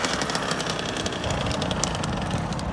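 Motorcycle engine running steadily at close range while a rider holds a wheelie, a continuous broadband drone with slight rough pulsing and no voices.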